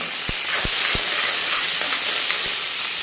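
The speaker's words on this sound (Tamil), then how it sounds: "கொஞ்சம் சின்ன வெங்காயம் போட்டுக்கிடுங்க. நல்லா வதக்கிக்கிடலாம்." Small onions sautéing in hot oil along with green chillies and garlic for a fried bitter gourd curry, a steady loud hiss and sizzle with a few soft pops, close up and without talk.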